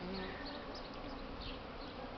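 A soft, continuous buzz of many honeybees hums close by a hive in spring, a steady drone with no talking over it.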